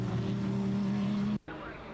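Grand Prix race car engine on a practice run, a loud steady droning whine held close, cut off abruptly for a split second before resuming.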